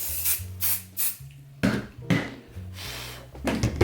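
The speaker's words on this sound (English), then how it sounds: "Now we're going to spray temporary adhesive" Temporary adhesive sprayed onto fabric for a Santa plushie, heard as several short hissing aerosol bursts separated by brief pauses, fairly close.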